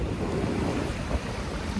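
Sea waves wash steadily at Aravali beach in Shiroda as the tide rises, a loud continuous surf roar mixed with wind buffeting the microphone.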